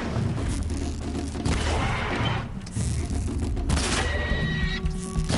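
Weapons firing in Horizon Zero Dawn, loud booming bursts and crashing impacts in clustered volleys with brief gaps, near and dense, no talk heard over the action.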